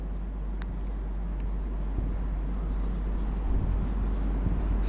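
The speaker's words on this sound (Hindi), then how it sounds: "मैं क्वेश्चन 6 भी लिख देता हूं।" A teacher writes out a costing question on a board, giving faint continuous scratching strokes over a steady low hum, with no speech.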